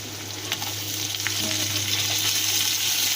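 Vegetables sizzle steadily in a hot pan for a pumpkin-leaf and hilsa fish head dish, a constant bright frying hiss with a few soft stirring scrapes and no talking.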